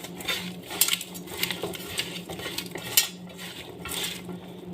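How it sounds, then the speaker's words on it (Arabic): A spoon scrapes and knocks against a pot while taro is stirred into a tomato mixture, giving quiet, irregular clinks and soft scraping close by. "هقلب كله مع بعضه كده."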